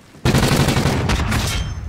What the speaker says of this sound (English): he shot me through the tree